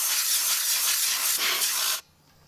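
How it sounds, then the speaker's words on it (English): Canned compressed air blasting into a dusty computer power supply, a loud continuous hiss lasting about two seconds before cutting off abruptly. "shoot a little bit of compressed air into the power supply right here"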